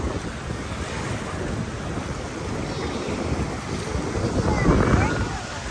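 Ocean waves washing in at a family beach, a steady broad wash with a swell near the end, heavy wind buffeting the microphone throughout.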